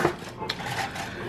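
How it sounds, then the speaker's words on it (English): A knife chops carrots on a cutting board for a home-cooked vegetable soup, giving a couple of brief close knocks over quiet kitchen background. "Well, obviously carrots, because I'm chopping them right now."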